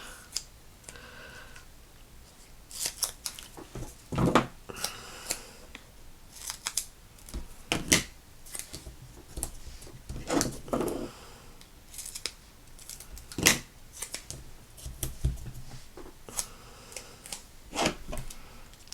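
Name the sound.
scissors cutting paper for recycled Christmas cards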